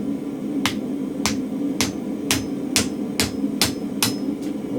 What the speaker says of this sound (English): I'm going to take 100mm or 3 7/8 from the end, and I'm going to bend it over.